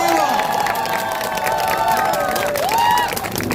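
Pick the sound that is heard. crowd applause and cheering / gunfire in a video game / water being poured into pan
crowd applause and cheering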